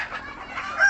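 Free-range laying hens clucking softly in a bamboo coop, a short, faint burst of soft bird calls that swells slightly toward the end.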